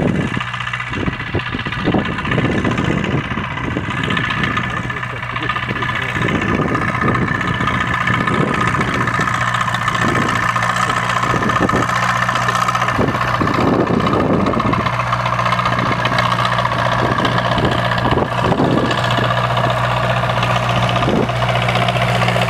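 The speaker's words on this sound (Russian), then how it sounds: "Работает мультиватор." Tractor running a DOBERKMET DPS-175 mulcher mower through grass taller than the tractor in a field, a loud, steady engine drone with rhythmic pulsing and knocking throughout, no voices.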